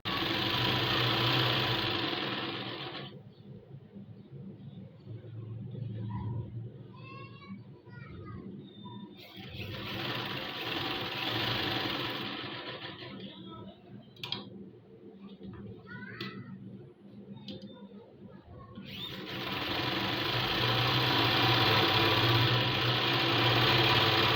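A sewing machine runs in loud bursts while stitching a double seam at the waist of a garment, with quieter gaps in between where faint household sounds come through.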